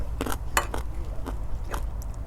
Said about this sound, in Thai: ถ้าเคี้ยวข้าวดังก็ขอโทษ ขออภัยเด้อ